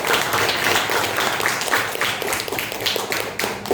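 Students in a high school classroom break into steady applause, a dense patter of many hands clapping that holds for nearly four seconds with a few faint voices beneath it.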